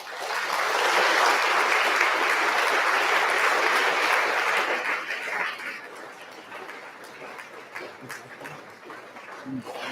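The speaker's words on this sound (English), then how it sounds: "Please give a huge round of applause," Loud sustained applause from an audience at a university Engineer's Day ceremony, a dense clapping wash that fades after about five seconds into scattered claps and room noise.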